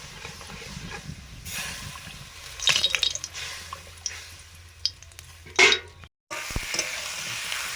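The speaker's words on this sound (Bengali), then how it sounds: "বেগুন ভাজা হচ্ছে" Eggplant (brinjal) slices frying in a pan give a steady close sizzle, with stirring scrapes and a few sharper spatters, a brief louder burst near the end, and no voices.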